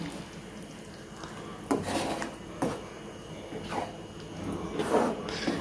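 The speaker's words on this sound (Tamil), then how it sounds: "இதெல்லாமே வந்து நல்லா கலந்து விடுங்க" Stirring bittergourd kuzhambu in a pot, with a spoon scraping and rubbing against the pot in several distinct strokes at irregular intervals, close and moderately quiet.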